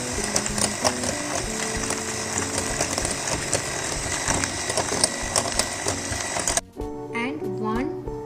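Sugar and cream being mixed together for a chocolate mousse cake, a steady dense mechanical whirring that runs unbroken for several seconds, then cuts off abruptly into quieter tonal sounds.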